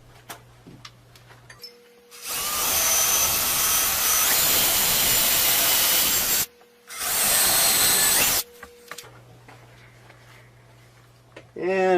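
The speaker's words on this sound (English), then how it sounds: "Now using a 7/32 bit, I'll drill the pilot holes." A power drill with a 7/32 bit bores pilot holes while a wall-mounted pull-up bar is installed, producing two loud, sustained whirring bursts of several seconds each, with a short pause between them and quiet room noise before and after.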